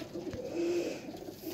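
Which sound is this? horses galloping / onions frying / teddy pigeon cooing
teddy pigeon cooing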